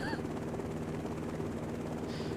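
A helicopter in a cattle farm simulator game drones with a steady, loud rotor whir that stays constant throughout, up close and filling the sound.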